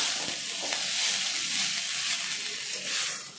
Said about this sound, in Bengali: হাফ পরিমাণ দেওয়ার পর ওটা ভালো করে ভেজে নিচ্ছি চাউমিনটা